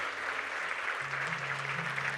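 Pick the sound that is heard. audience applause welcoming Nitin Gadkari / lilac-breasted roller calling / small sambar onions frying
audience applause welcoming Nitin Gadkari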